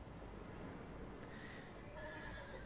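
A horse whinnies faintly and at a distance in the Red Dead Online video game, rising briefly out of a steady background hiss of ambient noise.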